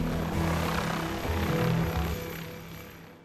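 A medical helicopter comes in over a hospital helipad with a steady, loud rotor and engine roar that builds, holds, then eases slightly toward the end. No voices are heard.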